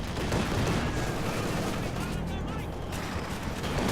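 A concentrated-fire artillery barrage in Company of Heroes 2, dense overlapping booms and crackling shell impacts forming a loud, continuous rumble of gunfire and explosions with no speech.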